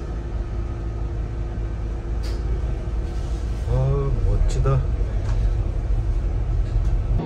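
A city shuttle bus on Phu Quoc, Vietnam, heard from inside on its way to Grand World: a constant low engine rumble and road noise, with a short spoken exclamation midway.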